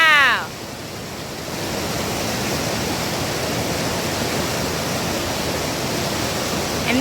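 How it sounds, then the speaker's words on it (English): Man-made whitewater rapids packed with large boulders give off a loud, steady, broadband roar of rushing water with no break, close to the listener. "these rapids are actually man-made, so they put those big-ass boulders in them to make the big rapids"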